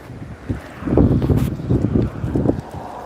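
Wind on a cold, windy day outdoors buffets the microphone in heavy, uneven low gusts that swell and fade over a few seconds, with no voices.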